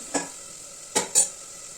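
Chopped tomatoes and chilies being fried and stirred in a pan: three short scraping spatula strokes over a quiet background sizzle, close by and without talk.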